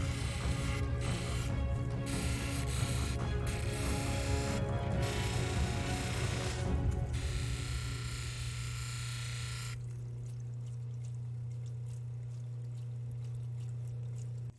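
Lapidary polishing wheels spin under running water while polishing a Welo opal from Ethiopia, giving a loud, steady whirring hum with a watery wash throughout and a brief change in tone partway through.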